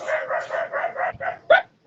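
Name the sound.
dog barking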